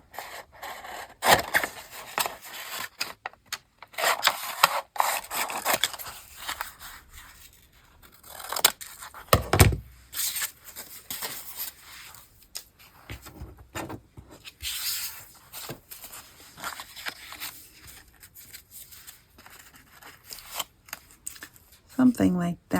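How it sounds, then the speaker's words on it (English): Scissors cut around paper while making a small handmade journal, producing close, irregular snips and rustling paper handling with quiet pauses between cuts. "And then I'm going to cut around this."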